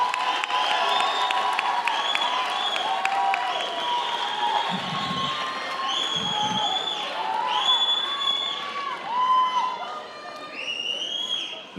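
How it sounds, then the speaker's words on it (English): A crowd at a 2025 Westwood Community Schools graduation ceremony cheers for North Academy graduates, with sustained applause, whoops and high shouts filling a large hall for the whole stretch. "Can we give a round of applause for our North Academy students?"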